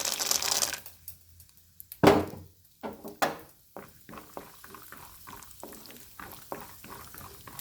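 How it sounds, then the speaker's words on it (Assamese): Peanuts fry in hot oil in a wok: quiet, close crackles and irregular bubbling pops, with a few louder bursts early on, then a busy, soft sputter. "বাদামকেইটা ভাজি মই প্ৰথমে থৈ ল'ম।"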